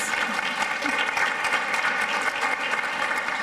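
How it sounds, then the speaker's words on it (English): Audience applause following a poem reading at an opioid summit in St. Louis, Missouri, a steady, dense burst of many hands clapping that holds evenly throughout without pause. "Now hold your applause"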